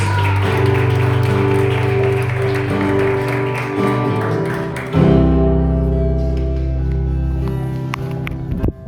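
A church congregation applauds over sustained musical tones. The clapping is dense at first, then softens after a brief swell in the music.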